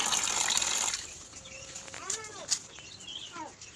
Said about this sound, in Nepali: यो जक्को पानी हाल